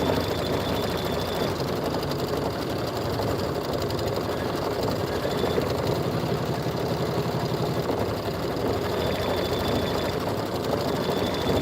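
A home embroidery machine stitches a border on a Kimberbell bunny bench pillow, a steady, dense mechanical whir with rapid needle rhythm, close and continuous with no voices.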